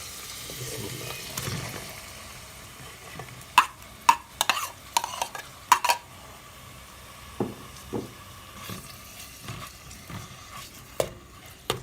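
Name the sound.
chicken cubes added and stirred in a pan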